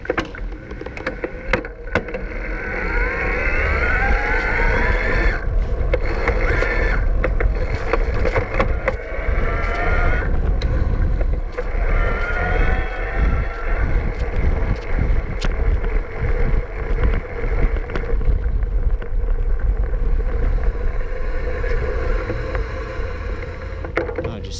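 A Gazelle CityZen T9 e-bike motor in turbo assist whirs and rises in pitch as the rider pedals at high cadence, carried under loud, continuous wind rush from riding outdoors.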